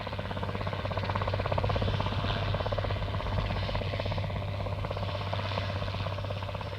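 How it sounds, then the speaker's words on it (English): A helicopter flies nearby with a continuous chopping drone and a steady low hum, loud and unbroken throughout, with no talking. "No, it's that helicopter for me."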